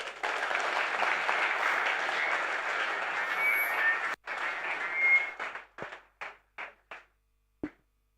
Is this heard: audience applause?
yes